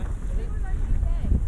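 Strong wind gusts rumble across the microphone during a high-wind windfoiling session off Bermuda, a steady low roar with water wash and faint voices underneath.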